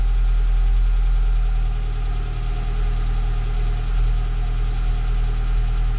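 A Peugeot 206 petrol car with 70,000 km idles steadily, a loud, close, continuous low engine drone with a faint knocking vibration. No starting is heard and no one speaks.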